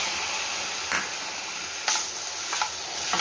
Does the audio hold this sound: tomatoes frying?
yes